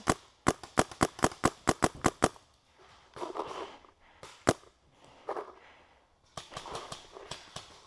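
Paintball guns firing at an upstairs corner window during a paintball game, a rapid string of sharp close pops followed by single shots and another burst, with voices talking between the volleys.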